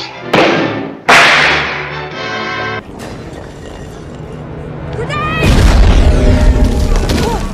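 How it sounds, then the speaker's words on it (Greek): A bomb goes off in the movie The Avengers: two sharp, loud booms in quick succession, followed by a lingering rumble that swells into a rising wash of noise and debris. "Έφαγε ολοφάντερα τη βόμβα με στη μούρη."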